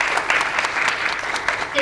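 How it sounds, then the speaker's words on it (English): Loud, close audience applause at a children's peace summit, dense clapping from a crowd with a few sharper individual claps popping out of the steady roar, lasting only a moment before tapering. "So please give a big round of applause to Kyosuke."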